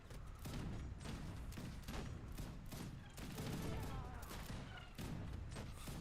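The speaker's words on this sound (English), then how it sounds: "Cannons are actually doing some decent damage to the units too." Cannons and gunfire from a large battle in the strategy game Age of Empires 3, with dense repeated booms and sharp cracks rolling on continuously over several seconds at a steady, busy level.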